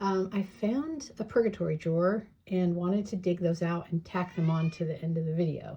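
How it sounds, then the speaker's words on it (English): A pet cat meows indoors, its drawn-out cries mixed in with a person talking steadily over it. "Apologies for the cat."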